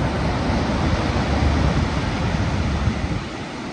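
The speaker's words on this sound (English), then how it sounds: "Big waves." Large ocean waves break on the Oregon coast in a loud, continuous roar of surf, mixed with heavy wind buffeting the microphone throughout.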